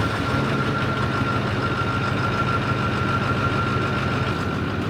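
A Ford Power Stroke diesel engine runs at a steady idle, a continuous low rumbling drone with a faint knocking texture, close and unbroken with no talk.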